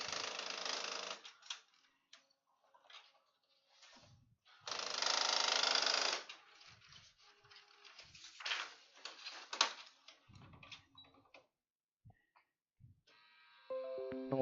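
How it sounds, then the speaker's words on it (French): A malfunctioning printer runs nearby in a room, giving irregular mechanical whirs, clicks and ratcheting bursts separated by short quiet gaps, with a faint tonal beeping near the end. "il y a un bug d'imprimante à côté, excusez-moi"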